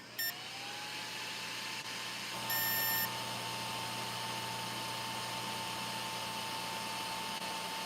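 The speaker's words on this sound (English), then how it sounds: "Let go of the program button when it starts beeping." An RC car's electronic speed controller gives a couple of quick beep sequences as it enters programming mode, then settles into a faint, steady electronic tone over a low hum.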